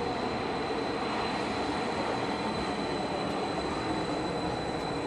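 Loud, steady broadband rumble and roar of a metro train ride, continuous and close throughout with no voices.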